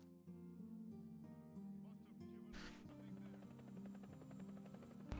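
An attack helicopter flies in a Garry's Mod Star Wars RP game, its steady rotor hum and buzz running under a louder bed of overlapping game sounds and short bursts.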